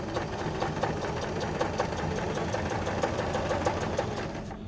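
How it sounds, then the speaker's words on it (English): A sewing machine stitches along a fabric edge with a fast, even mechanical whir and a rhythmic needle clatter, close and steady, then easing off at the end. "drop your presser foot back down and start sewing along this edge"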